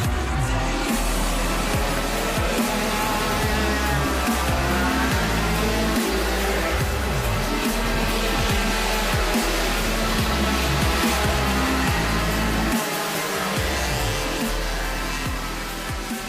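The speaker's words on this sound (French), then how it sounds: "les moteurs sont partis pour chauffer 5 heures durant" At the start of a five-hour endurance race, a field of fifty 50cc race cars runs together in a loud, dense engine drone with overlapping buzzing revs, steady throughout and without talk.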